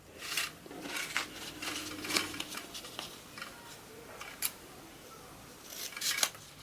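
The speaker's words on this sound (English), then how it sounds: "fold at the top, the 2 openings on the bottom, and cut at a diagonal" Scissors snip through ribbon at a diagonal while a peppermint Christmas wreath is being made, giving a few quiet, close crisp cuts and light handling rustles in an otherwise calm room.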